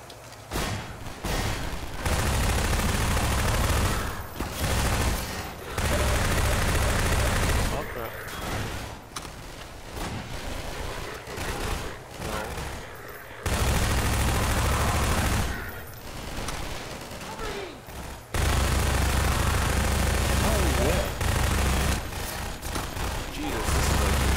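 A Half-Life 2 firefight roars with sustained, heavy bursts of gunfire and a grenade blast, loud and close, in long barrages broken by brief pauses.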